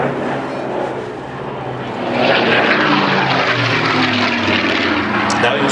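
A Spitfire PR Mark 19 passes at an airshow, its piston engine and propeller droning loudly, swelling as it comes closer, with a commentator's voice underneath.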